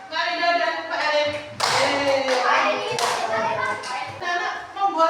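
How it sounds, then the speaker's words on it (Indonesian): Indonesian primary schoolchildren clap together in a classroom for two classmates during a coding and computational thinking lesson, a dense, steady patter of hands lasting several seconds with children's voices mixed in. "Tepuk tangan untuk Marida dan Pak Erik."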